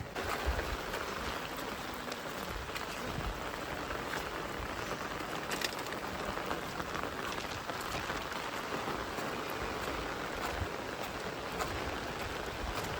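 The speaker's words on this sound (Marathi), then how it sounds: "पाऊस पूर्ण तिरका आहे पडतो बघा." Heavy slanting monsoon rain pours outdoors in the Konkan countryside, a dense, continuous hiss of drops on surfaces that stays steady and fairly loud throughout, with no talking.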